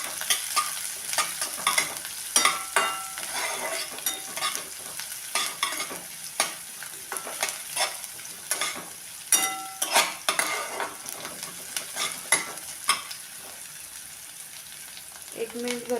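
Finely chopped onion sautéing in oil in a pan, a steady sizzle broken by repeated sharp scrapes and clicks of a spatula stirring against the metal.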